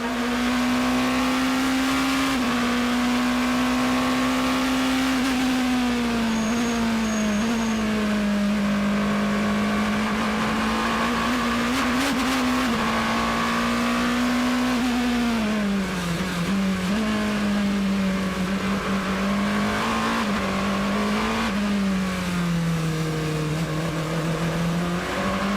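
Loud, continuous race engine roar of a Porsche 4.6L bi-turbo V8 hybrid hypercar at Le Mans, heard from inside the cockpit, pitch climbing and dropping through gear changes and throttle lifts, with no voices.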